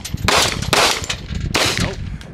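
Several loud, close gunshots ring out at an outdoor shooting range, three sharp blasts spaced unevenly across a couple of seconds, each followed by a short decaying tail.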